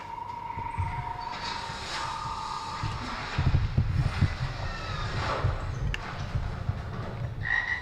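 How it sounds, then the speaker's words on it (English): Rainforest frogs croak in repeated trilling calls amid a dense, noisy jungle ambience, with a steady low rumble underneath and no voices. "So you take back and you look at the frog. You hear the voice of the jungle."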